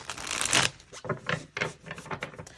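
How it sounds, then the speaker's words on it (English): A tarot deck with gilded edges is side-shuffled close by, giving quick papery riffles and soft card slaps in several bursts, with no talk. "the side shuffling is not completely ideal because it can mess up the gilding on the sides"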